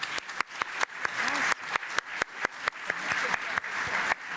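Applause at a school district recognition event, fairly light with distinct sharp claps standing out against the crowd's clapping, moderately loud and steady throughout.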